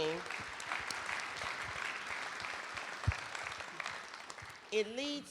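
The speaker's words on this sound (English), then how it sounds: "So that within itself deserves a round of applause." Quiet applause from a room full of people at a mayors' panel, a dense patter of clapping that fades toward the end as a voice briefly speaks.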